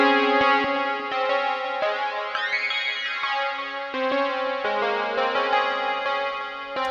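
A layered Serum synth patch plays sustained chords, a sync window adding a high, glassy twinkle that sweeps upward in the middle, bright and clean with no voices.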